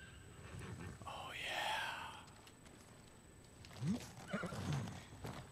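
Faint horse whinny with breathy huffs after a whistle, followed by soft hoof clops, quiet and partly under whispered talk.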